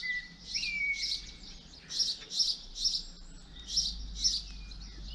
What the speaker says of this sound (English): I've let the birds out for their walk.